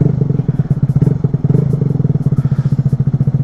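A Harley-Davidson Street Bob motorcycle idles while warming up on a cold day, its V-twin engine thumping in a loud, close, steady loping rhythm with no talking.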